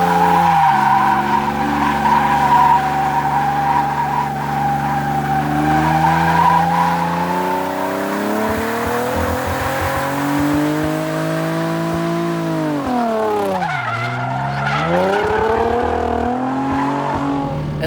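An automatic car drifting: engine revs and wails through long sweeping pitch changes while tires squeal and skid, loud and close throughout.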